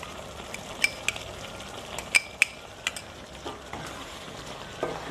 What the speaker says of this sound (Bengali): ভালোভাবে মিশিয়ে নেব।